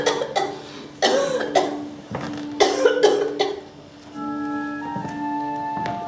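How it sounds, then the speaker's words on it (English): Repeated harsh, hacking tubercular coughs on stage during an improvised play in the style of Chekhov, several loud fits in a row followed by a quieter sustained tone. "I'd know that tubercular cough anywhere."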